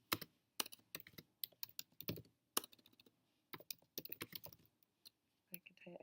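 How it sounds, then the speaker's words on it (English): Keys clatter on a computer keyboard in irregular bursts while someone types a paper, with short pauses between flurries of clicks; no voices. "you'll hit tab to indent your first paragraph and just begin typing your paper"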